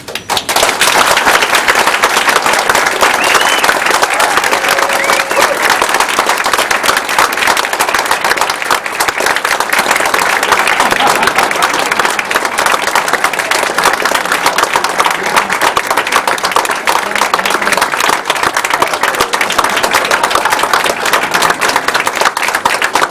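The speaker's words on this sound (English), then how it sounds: "Please let your applause be loud." Wedding guests break into loud, sustained applause and cheering right after the couple's kiss at the ceremony, a dense wall of clapping that fills the whole stretch without letup.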